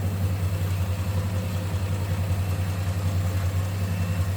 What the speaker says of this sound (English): 225 cubic inch. Slant 6, and it is smooth running.